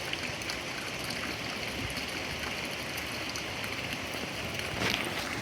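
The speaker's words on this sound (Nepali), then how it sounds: "पानी पर्यो है साथीहरू फेरि पानी पर्यो" Rain falling at night outdoors, a dense even wash of patter and hiss that holds steady throughout, moderately loud with a brief surge near the end and no voices.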